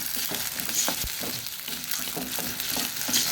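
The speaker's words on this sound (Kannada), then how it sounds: "ಒಂದು 1/4 ಲೋಟದಷ್ಟು ನೀರನ್ನು ಹಾಕ್ಕೊಳ್ತಿದ್ದೇನೆ." Sukka frying in a pan sizzles as water goes in, a busy crackling hiss with scattered stirring scrapes, close and steady throughout.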